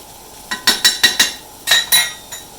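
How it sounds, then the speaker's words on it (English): A utensil clinks and scrapes against a pot while stirring pot pie ingredients, including flour, garlic powder and thyme, in a quick series of about eight sharp, close knocks with brief pauses between them, without any voices. "Stir that all up."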